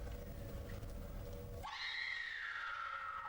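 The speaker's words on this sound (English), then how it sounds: "Have they added that scream?" A high, wavering scream sound effect from a Doctor Who episode playing on TV, rising suddenly out of low background noise and holding for over a second at moderate volume.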